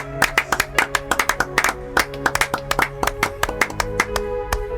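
A church congregation claps in a lively, uneven rhythm, with many sharp close hand claps over a faint sustained tone and no clear voices.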